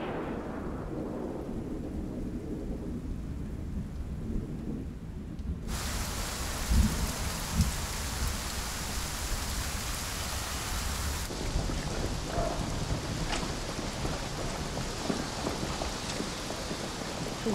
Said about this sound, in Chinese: 这雨下了一夜呀